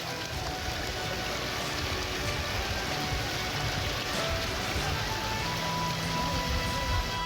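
Steady rain falls during a flood disaster, a dense, continuous hiss of drops on surfaces that holds the same level throughout with no voices.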